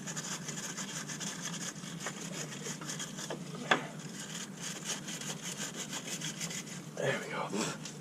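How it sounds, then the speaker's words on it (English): Rapid scratchy brushing strokes rasp against a metal truck part in a quiet setting, with a brief sharp knock partway through. "Give it a quick brush."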